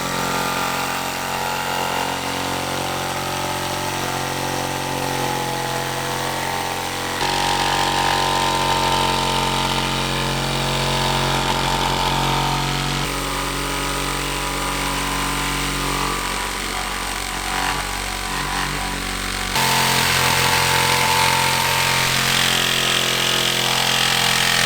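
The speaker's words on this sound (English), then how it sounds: "we're cutting the third piece of wood right now for the subfloor" A power tool cuts wood for a van subfloor in a continuous, loud whine and buzz lasting over twenty seconds, shifting in pitch and intensity in a few distinct stages.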